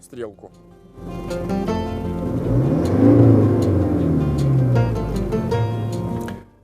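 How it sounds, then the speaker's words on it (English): A car engine hums at a low idle, then rises in pitch and loudness as a little gas is applied, holding the raised revs before settling back down near the end, heard from inside the cabin. "Now the engine is idling. I'll give it a little bit of gas"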